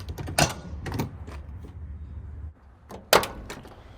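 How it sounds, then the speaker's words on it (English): Door of a 1977 Ford F100 pickup with new seals, opened and shut twice: sharp latch clicks and a solid thunk near the start, then another firm close and clack near the end, close by in a quiet space. "Doors open and close very nicely."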